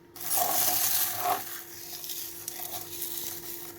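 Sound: mixing dried mint and lemon into meat and chickpea okra

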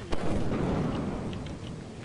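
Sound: thunder from a lightning strike in a video game

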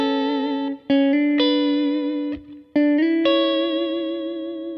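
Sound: electric guitar played with delay and reverb effects

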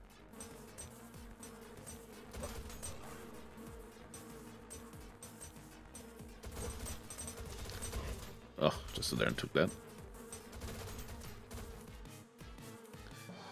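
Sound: wasp swarm attacking in a turn-based roguelike video game

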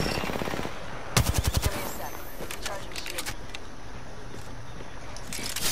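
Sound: gunfire in the video game Apex Legends

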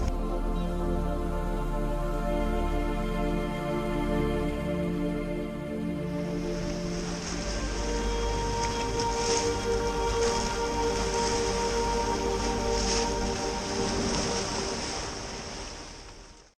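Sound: sea waves on the Adriatic coast

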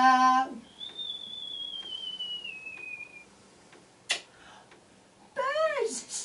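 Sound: whistle imitating birdsong

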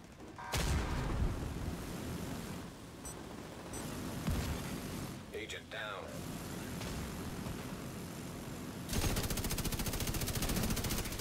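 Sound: weapon firing at the ammo barrel in a video game

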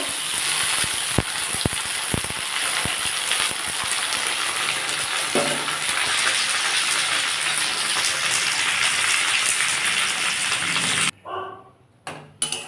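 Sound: okra frying in oil with dried chillies

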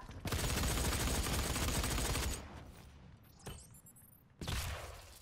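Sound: shotgun firing in the video game DOOM

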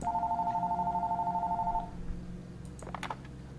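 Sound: phone ringing in horror video game Fears to Fathom

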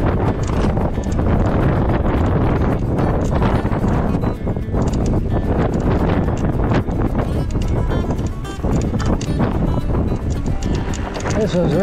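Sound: strong wind outdoors

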